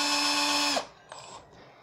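Power drill boring briefly into a wall above a folded post-it note, a steady high whine for under a second before spinning down, then faint handling sounds.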